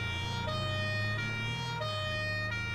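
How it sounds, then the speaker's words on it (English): A wailing emergency siren on a vehicle in Farming Simulator 22 cycles up and down in pitch over a steady engine rumble, loud and continuous. "Does it have a siren?"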